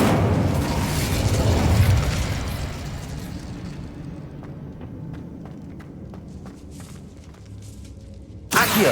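The Incendio fire spell is cast in Hogwarts Legacy, a loud whooshing burst of flame that fades into a crackling, ticking tail with a sharp noise at the end.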